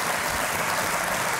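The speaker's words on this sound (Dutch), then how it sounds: "Graag een groot applaus." Audience at a live talk show giving the guests a big round of applause, dense continuous clapping filling the short moment, close and fairly loud.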